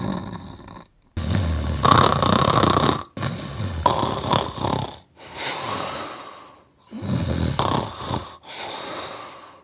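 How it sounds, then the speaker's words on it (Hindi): Loud, close snoring from a sleeping person, several long rasping breaths in a slow, regular rhythm separated by short quiet gaps, with no talking. "आज मैं आपके सामने बहुत कॉमन प्रॉब्लम एक लेकर आया हूं जिसको बोलते हैं स्नोरिंग या खर्राटे आना।"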